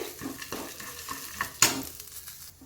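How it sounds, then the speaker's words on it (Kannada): Seasoning and curry leaves spluttering in hot oil for a tempering, with a soft fry hiss broken by scattered pops and one sharp crackling burst midway. "ಚಟ್ಪಟ್ ಅಂಥೇಳಿ ಸಿಡಿಲಿಕ್ಕೆ ನಮಗೆ ಸ್ಟಾರ್ಟ್ ಆಗುತ್ತೆ ಸ್ನೇಹಿತರೆ ಹಾಗೆ ಸ್ವಲ್ಪ ಕರಿಬೇವು ಸೊಪ್ಪು ಅದನ್ನು ಕೂಡ ನಾವು ಫ್ರೈ ಮಾಡ್ಕೋಬೇಕಾಗತ್ತೆ"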